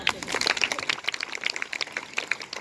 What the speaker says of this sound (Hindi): शाबाश, तालियां।